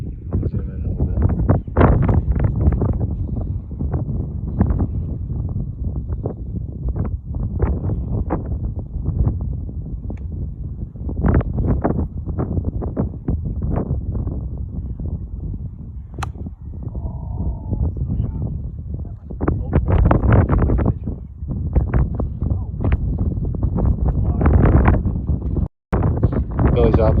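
Strong wind buffets the microphone on a golf course in Scotland, a loud, constant roar with gusts throughout, and voices can be heard talking under it.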